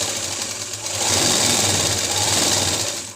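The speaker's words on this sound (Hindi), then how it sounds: "ये लगाई मैंने सिलाई।" A sewing machine running a fast steady stitch along the seam of a circular palazzo, a close whirring buzz that rises in speed after the first second and holds until it stops, with no talking.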